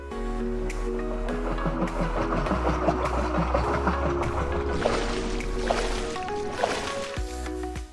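A motor boat in an Unreal Engine 5 game chugs with a steady engine drone and propeller churn, then the low engine tone cuts out near the end as the boat stops.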